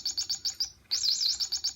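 A small pet bird in a cage gives rapid, repeated high chirps close by, a rhythmic burst, a brief pause, then another quick series, with no talk.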